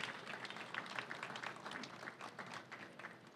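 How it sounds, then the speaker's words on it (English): Audience applause at a celebration honoring New York City police officers, a dense, steady wash of many hands clapping at moderate volume throughout, with no talk over it. "they deserve a round of applause for that"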